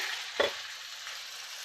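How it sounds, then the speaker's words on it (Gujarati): Steady, bright sizzling of garlic and dried red chillies frying in hot ghee, with a brief louder crackle as something hits the pan early on. "હવે આપણે તેમાં નાખીશું લસણ અને સૂકા લાલ મરચાં."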